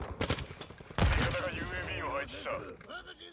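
Gunfire in Call of Duty: Modern Warfare II, a quick run of shots and then a loud blast, with someone talking over the din that follows.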